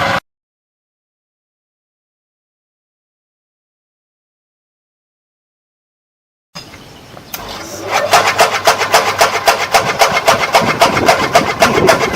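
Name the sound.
motor-driven grass cutting machine running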